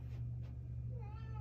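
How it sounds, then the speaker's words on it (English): Indoor cat meowing to be let into the room, a few faint rising calls late in the moment over a steady low hum, with no talking. "my cat was wanting to come in here"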